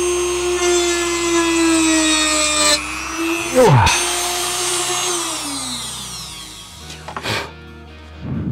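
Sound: Dremel rotary tool cutting in small increments

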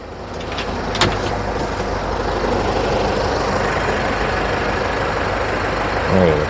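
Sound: Isuzu Spark 1.9 Ddi diesel engine running

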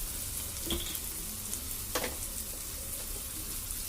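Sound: frying egg fried rice in a pan

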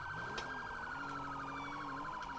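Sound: police car siren in video game FivePD

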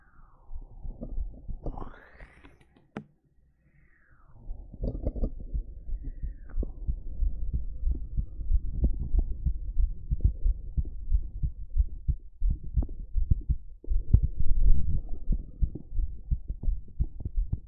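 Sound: heartbeat sound played in an ASMR stream

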